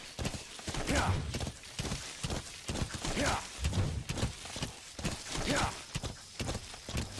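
Horse hooves clip-clop at a steady walking rhythm in Metal Gear Solid 5: The Phantom Pain, crossing open savanna terrain, the repeated thuds loud and close with no talk over them.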